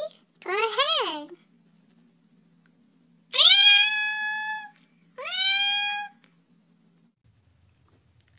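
A cartoon cat gives three drawn-out, high meows, one after another with short silent gaps between them, sounding clear and close.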